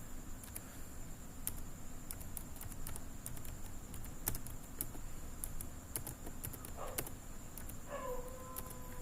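Keys on a computer keyboard are tapped in a quiet room, a sparse, irregular run of light clicks against a low steady hiss, with a brief faint voice near the end.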